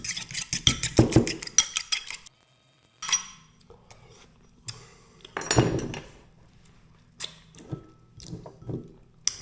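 A utensil clatters and clinks against a bowl in quick, uneven bursts while mayonnaise ingredients are mixed, with short pauses between the bursts and no talking.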